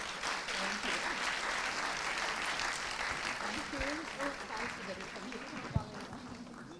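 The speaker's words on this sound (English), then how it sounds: "Can we have another round of applause?" A conference audience claps at moderate volume, a steady patter of hands with voices murmuring and talking beneath it and a sharp knock near the end.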